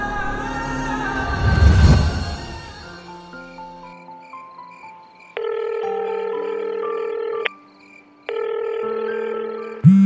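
An electronic telephone ringtone plays as a series of steady, clear tones in a repeating pattern. It follows a brief louder sound and stays fairly loud, with no talking over it.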